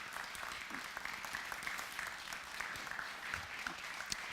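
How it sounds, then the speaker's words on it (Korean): A room full of people at a church dawn revival service applauds steadily, a dense wash of clapping that holds at an even level throughout. "우리 박수로 한번 격려합시다"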